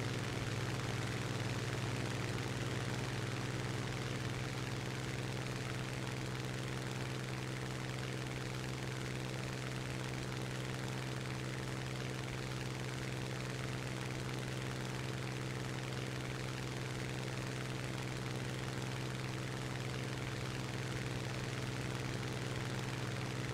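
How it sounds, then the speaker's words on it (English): A Yak aircraft engine running in a flight simulator game, a steady droning hum with strong low tonal bands, continuous and unchanging, heard alone at moderate level. "That might also be why his engine doesn't sound so as powerful."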